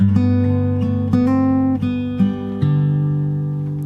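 Close fingerstyle acoustic guitar picks the opening bar of a song verse from Aladdin, a handful of plucked notes over a sustained chord, starting with a finger roll and ringing out at the end, with no talking.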